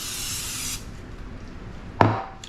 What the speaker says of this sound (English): So we're gonna take our olive oil spray. We're just gonna spray the inside of this thing.